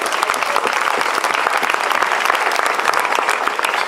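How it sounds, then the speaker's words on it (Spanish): Sustained audience applause at a costumed historical reenactment in Spain, dense steady clapping from a crowd filling the whole span at an even loudness with no pauses. "Un aplauso para ella, por favor."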